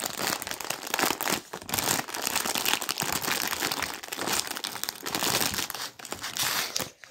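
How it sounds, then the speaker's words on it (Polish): A plastic polybag holding a Lego Creator snowman set is handled and crinkled up close, loud crackling and rustling in uneven bursts with short pauses. "przejdźmy do otwarcia tego polibaga"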